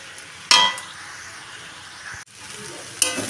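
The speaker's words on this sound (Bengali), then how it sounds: "এটা এবার ভালো করে মিশিয়ে নিতে হবে।" Chow mein with egg and chicken being stirred in a hot frying pan, a steady sizzle with a couple of sharp utensil scrapes against the pan.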